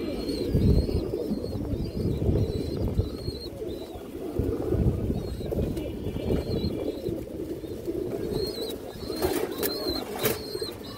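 Indian highflyer pigeons, including a large female, coo and rustle nearby with occasional wing flaps, a continuous low burbling bed with brief higher chirps over it.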